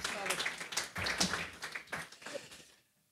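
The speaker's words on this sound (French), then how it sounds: "sous vos applaudissements" Audience applause greets guests at a conversational marketing breakfast event, with scattered claps blending under a host's voice before fading out near the end.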